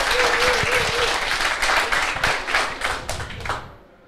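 Audience applause at a live crypto meetup stream, dense clapping from a crowd that stays loud for over three seconds before quickly tapering off, with a brief voice line early on.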